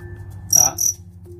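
Crickets chirp in short bursts during a Vietnamese cricket fight between a dế than and another cricket, two close, bright chirping flurries over a low steady hum.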